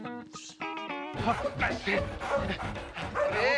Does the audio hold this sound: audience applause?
no